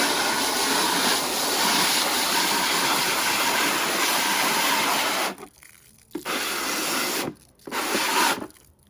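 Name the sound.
rinsing a plastic gallon jug with water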